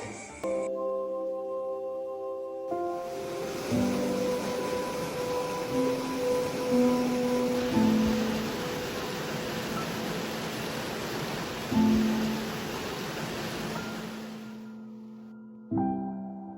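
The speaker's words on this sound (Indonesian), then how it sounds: "Lihatlah sungai ini, sejuk, bersih, dan jernih, tanpa sampah." A clean, clear river flows with a steady, broad rushing wash that runs on without a break, while music plays over it.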